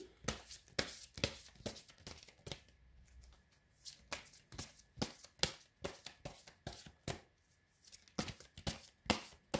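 Tarot cards are shuffled and laid out by hand, giving a run of sharp, close riffling snaps and flicks in irregular bursts, with short quiet gaps and no talking.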